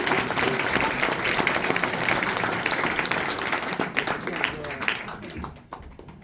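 A fan convention crowd applauds a singer with loud, dense clapping that runs steadily, with people talking through it, before fading out near the end.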